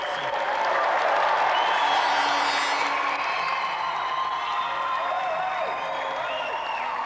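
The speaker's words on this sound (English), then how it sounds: "please, a round of applause for our final competitor tonight, Rod Rambo Lynette" Studio audience applause for a robot-fighting competitor on a 1993 TV games show, a loud, dense and steady wash of clapping that holds evenly for several seconds.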